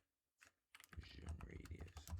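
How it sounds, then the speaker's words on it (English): Computer keyboard typing, a brief pair of keystrokes followed by a steady run of quick, close clicking. "I typed in 2 C's."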